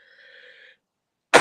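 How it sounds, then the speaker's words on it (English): A single sharp cough bursts out near the end, close and loud, after a short moment of quiet. "every time I talk, it's making me cough"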